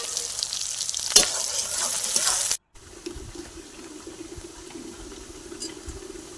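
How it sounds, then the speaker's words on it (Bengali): Whole garam masala spices frying in hot oil for a chicken dish. A bright, close sizzle is broken by a brief cut, then settles into a softer steady crackle with occasional stirring. "গোটা গরম মশলা দিয়ে দিচ্ছি। আমি লাল লাল করে ভেজে নেব।"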